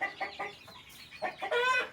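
Farm chickens cluck close by in quick, uneven bursts, ending in a louder drawn-out squawk, with no talking.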